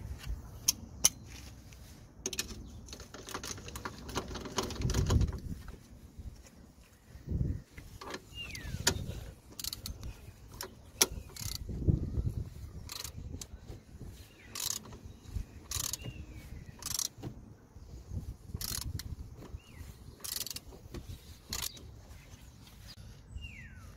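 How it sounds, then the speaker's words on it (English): A ratchet loosening front suspension bolts on a Peugeot 207 during a coil spring replacement: quiet, scattered sharp clicks and metallic clunks at irregular intervals over a low background rumble. "so now we're gonna use a ratchet because it's getting harder"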